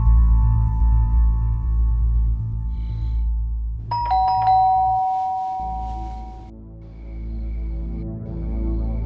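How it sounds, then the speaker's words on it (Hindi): A two-tone doorbell chimes once indoors, bright and fairly loud and clear, ringing out over a low steady hum and a short stretch of background music. "एकदम से डोरबेल बजी"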